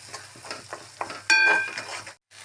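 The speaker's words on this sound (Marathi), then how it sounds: "तेल छानपैकी गरम झालेलं आहे आता यामध्ये मी हा मसाला घालत आहे मसाला छानपैकी परतून घ्यायचा आहे" Masala sautéing in hot oil for a dhaba-style dum aloo, sharp sizzle bursts and spoon scrapes close up, with a louder crackling surge midway and a brief silent gap near the end.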